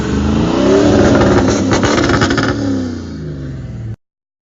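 A diesel truck engine revs hard and loud up close, the roar climbing then easing off before cutting out abruptly.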